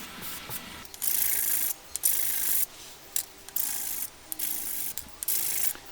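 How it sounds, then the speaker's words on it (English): Wood end grain being hand sanded with abrasive paper, heard as a series of close, loud, rasping strokes in short bursts with brief pauses between them. "Finally, the end grain was sanded"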